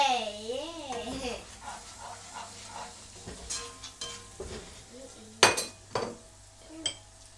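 Onion and sweet pepper tossed into a pot and stirred for a cornmeal dish, giving a soft sizzle with scraping and clinks of a utensil against the pot, under a voice talking throughout.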